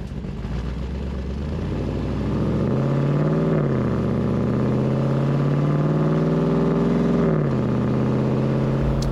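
A Landcruiser 80 Series with an LS V8 conversion and paddle-shift gearbox idles, then pulls away, its loud close engine note rising through revs, holding steady, and dropping back near the end, with no talk.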